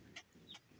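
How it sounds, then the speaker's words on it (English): Soft, faint peeps, pecking and small clucks from sixteen baby chicks come in a few brief bursts, close by in a quiet indoor space. "So if you hear pecking in the background, that's because I got 16 baby chicks inside"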